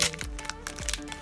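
A foil booster pack of Modern Horizons 2 trading cards crinkles and crackles up close as it is torn open, several sharp rustles in quick succession.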